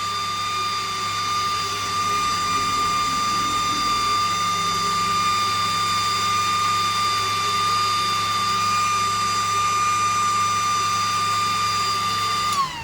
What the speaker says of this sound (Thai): เสียงพัดลมดัง ดังมากเลย